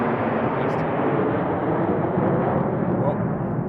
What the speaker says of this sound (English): And now we're getting strafed.